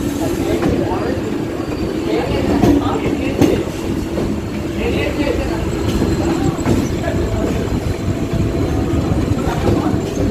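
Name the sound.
Howrah Raxaul Special train passing, Indian Railways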